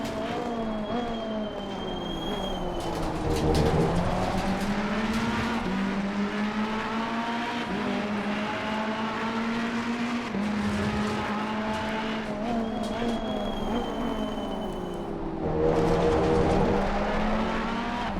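A race car in a racing video game at Misano drives continuously with a loud, close engine whose pitch rises and falls through the gears, and tires squeal as it drifts out of corners.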